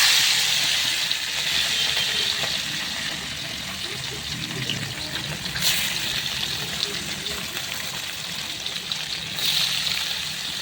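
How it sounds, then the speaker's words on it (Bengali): Fish frying in hot oil makes a loud, continuous hissing sizzle with bubbling crackle throughout, and brief surges of spatter, while a voice talks intermittently. "আমার তেল গরম হয়ে গেছে। এখন একে একে করে এখানে মাছ আছে, মাছ আমি ভেজে নেব।"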